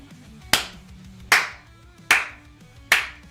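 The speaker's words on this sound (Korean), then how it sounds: "박수 한번 주시죠" Four sharp, evenly spaced claps ring out close and loud, each hit followed by a brief decaying tail, with no voices.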